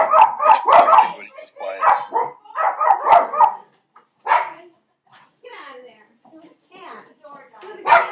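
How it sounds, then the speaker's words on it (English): Dogs bark in loud, close, rapid bursts, with a few yips and softer whimpers in between, pausing and then starting up again near the end. "You're going to have to listen to dogs barking."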